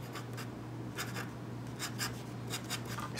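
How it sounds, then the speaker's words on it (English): A fountain pen loaded with Noodler's Nikita red ink scratches quickly across paper in a run of short, rhythmic strokes, close and clear over a low steady hum. "if I'm writing very fast and rapidly, it does feel a little bit, just listen to it."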